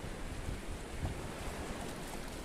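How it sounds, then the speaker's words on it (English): A waterfall by the sea at night on the Irish coast gives a steady, close, broadband rush of falling water, constant and unbroken without any voices. "And there's a pretty good waterfall going here."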